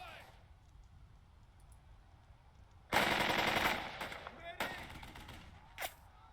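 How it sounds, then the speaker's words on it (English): Bursts of rifle and machine-gun fire in the WWII tactical game Burden of Command erupt loudly after a quiet stretch, with a heavy volley followed by a few scattered shots. "We're taking fire."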